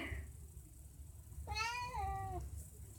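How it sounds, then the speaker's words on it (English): A single drawn-out cat meow rises and falls, moderately faint, against a low background hum. "Sorry about my cat in the background."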